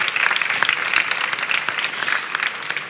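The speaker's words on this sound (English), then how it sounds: "So can we also get a big round of applause for yourselves," Dense, steady applause from an audience at a youth dialogue on climate action, close and loud throughout with many overlapping hand claps and no pauses.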